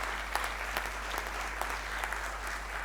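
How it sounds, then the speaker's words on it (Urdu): An audience at a mushaira in Dubai gives a steady round of applause, dense clapping heard from a distance at moderate level, with no talk over it. "آپ کی تالیاں آواز دیں, پرزور تالیاں آواز دیں."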